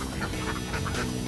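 Ducks quack beside their pen, which has a small bathing pool, in a brief, dense, noisy burst of overlapping calls.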